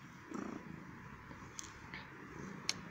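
A black cat purring faintly up close, a soft low rumble over quiet room noise, with a few small clicks and brief sounds scattered through.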